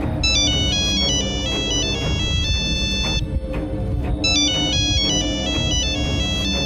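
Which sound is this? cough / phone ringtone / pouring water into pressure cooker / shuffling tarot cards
phone ringtone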